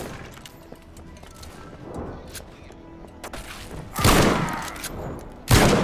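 Gunfire crackles in the WW1 video game Over the Top: a few faint distant shots, then two loud, close blasts with a harsh crash and echoing decay.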